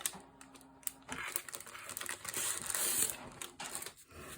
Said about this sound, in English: I'm going to open this up and just flip through some of these design papers